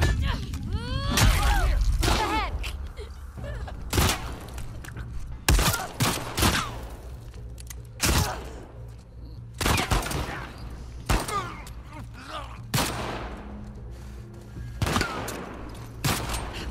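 Rifle gunfire in The Last of Us Part II video game: a series of sharp, loud single shots spaced irregularly over the span, with echoing tails between them and someone talking in between.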